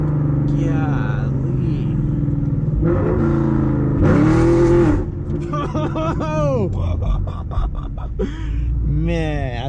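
A 2017 Camaro SS running on E85 fuel revs hard from inside the cabin, loud rising and falling engine sweeps with gear changes, while a man briefly exclaims over the roar.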